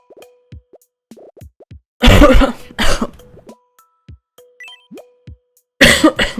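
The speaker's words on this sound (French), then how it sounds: "je tousse" Two sharp, loud coughs break a quiet stretch of soft popping and plopping sounds, followed by another burst of coughing near the end.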